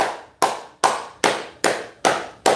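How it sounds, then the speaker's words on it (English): Sharp percussive bursts arrive about every 0.4 seconds in a regular pulse, each fading quickly, close and fairly loud with nothing else around. "Round of applause, man."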